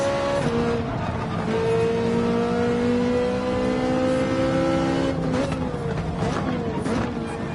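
Race car engine in Gran Turismo 7 on the Laguna Seca circuit, a loud, steady, close engine drone with pitch rising and shifting as it accelerates, with a faint tire squeal and a voice talking over it.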